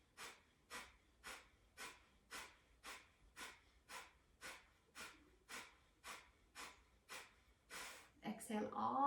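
Rapid pumping breaths of a yoga breathing exercise, about a dozen sharp, evenly spaced forceful exhales in steady rhythm, close and clear, ending with a longer breath.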